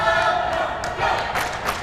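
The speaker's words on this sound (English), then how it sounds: "As they come onto the floor, the crowd has started to pick up a bit" Crowd noise at a 1993 men's college basketball game, Fort Wayne Mastodons against Northern Kentucky, swells as players come onto the floor: a steady arena murmur with scattered shouts and thuds under a voice talking.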